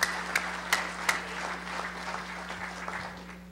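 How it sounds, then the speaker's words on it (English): An audience at an annual convention general session applauds, opening with a few sharp separate claps and then settling into a soft, fairly distant patter of hands over a steady low hum. "let's give these Legion posts a big round of applause"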